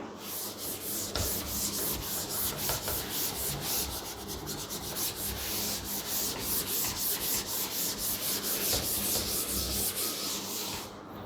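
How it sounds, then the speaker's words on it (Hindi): Continuous brisk rubbing as writing is erased from a board during a maths lesson, steady back-and-forth strokes for about eleven seconds, close and fairly loud with no talking. "चलिए अब मैं इसको रब कर रहा हूँ।"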